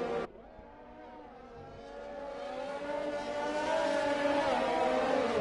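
Race car engine in the F1 2020 video game at the Belgium circuit, a steady high harmonic whine that builds gradually in pitch and loudness, heard close and alone without talk.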